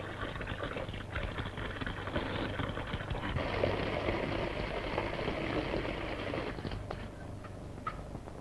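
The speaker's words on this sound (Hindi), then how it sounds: "देख साला पानी भी क्या धार बनकर गिर रहा।" Water pours down in a steady stream, a continuous close splashing rush that holds for several seconds with no voices over it.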